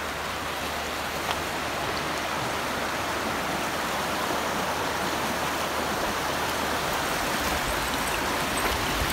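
The Almanza River flows into Bahía Almanza on the Beagle Channel, heard as a steady, dense rushing wash of water, continuous and fairly close, with no talk over it.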